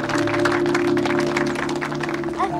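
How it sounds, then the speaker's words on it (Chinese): Audience applause at a charity donation and ribbon-cutting ceremony, a continuous patter of clapping over steady tonal background music, ending with a brief rise near the close. "让我们以热烈的掌声邀请胡鑫董事长为我们捐赠剪彩"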